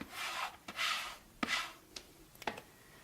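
A wallpaper smoother is rubbed around the edge of a sink, making soft rasping swipes in a few separate strokes with brief pauses between them, quiet and close.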